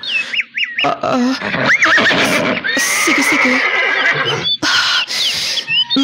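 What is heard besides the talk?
horse neighing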